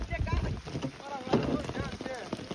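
Strong wind buffets a boat out on a flooded wetland during rain, roaring against the microphone in gusts while people talk and shout nearby.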